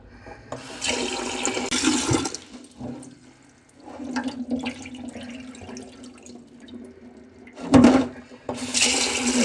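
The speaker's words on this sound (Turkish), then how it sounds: "Üzerine çıkacak kadar su koyuyorum." Water poured from a tap into a pot of village lentils, several gushing bursts of running water at close range with quieter pauses between them, and no talking.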